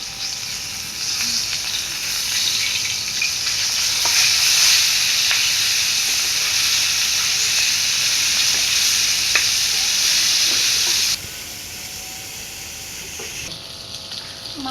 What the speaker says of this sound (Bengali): মশলা বাটা হয়ে গেছে, এখন মাছগুলো উল্টে দিব।